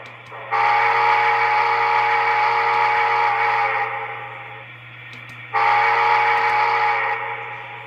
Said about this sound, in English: I just love these whistles of these steam engines